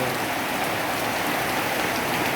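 Heavy rain falls over a flooded school ground, a dense, loud, unbroken hiss of drops hitting the surface, steady throughout with no voices.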